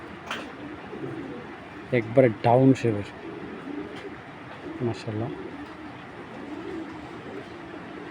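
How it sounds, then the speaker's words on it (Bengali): Domestic pigeons, including a large female feeding a chick, coo nearby in short rolling bursts, a cluster in the middle and a brief one later, while someone talks over most of it. "আর এই যে কবুতরটা বাচ্চা খাওয়াইতেছে, দেখছেন, মাদিটা"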